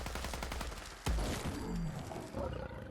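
Full-auto fire from a Winchester 5mm range rifle in Fallout 4, a rapid string of shots with one heavy boom partway through, moderately quiet and mixed with other game noise, no voices.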